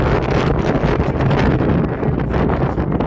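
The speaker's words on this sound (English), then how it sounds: "Alaska's having some serious windy and wild weather. It is blowing." Strong wind roars continuously into the microphone in wild Alaska weather with blowing snow, a loud, steady buffeting rush with gusty surges and no voices.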